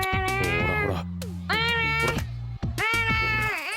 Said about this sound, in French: Même dans sa façon de jouer avec le chat de Ryoma